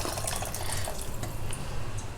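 Water pours and splashes steadily into a vessel, a continuous close liquid rush with small drips.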